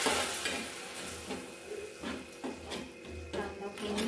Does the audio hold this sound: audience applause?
no